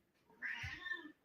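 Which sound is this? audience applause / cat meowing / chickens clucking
cat meowing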